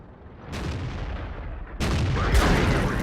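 Heavy tank cannon fire in a tank battle video game, two deep booming shots about a second apart, loud and reverberant with a rumbling low tail, no voices.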